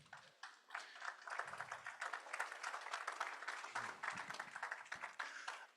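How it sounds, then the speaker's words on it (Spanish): An audience at a business event on sustainable innovation gives sustained applause, dense overlapping clapping heard at a distance and fairly quiet, holding steady for several seconds. "Fuertes los aplausos, por favor."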